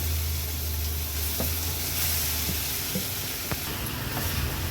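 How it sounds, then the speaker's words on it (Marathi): Grated raw green mango sautés in ghee in a pan with cinnamon and cloves for gulamba, a dense, continuous loud sizzle close by with faint stirring scrapes and no talking. "आता या खिसला आपण व्यवस्थित एक चार ते पाच मिनटासाठी तुपावरच परतून घेणार आहोत"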